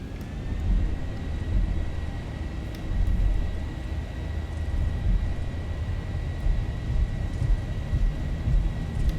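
Boeing 737-800 jet engines at takeoff power in a flight simulator, a steady loud roar with low rumble and a faint high whine, continuous throughout with no voices.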